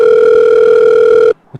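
Steady telephone dial tone, heard when placing a call at a school reunion, holds loud and unbroken for over a second, then cuts off abruptly and leaves a faint click.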